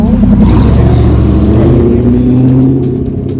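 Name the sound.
car driving past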